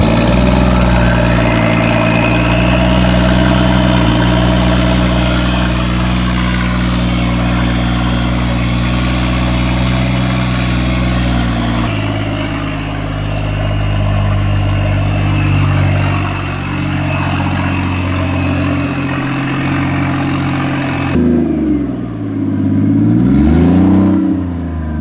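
A BMW 335i engine fires up with no exhaust fitted and idles loud and raw, a steady heavy rumble that shifts pitch near the end as the revs rise and fall.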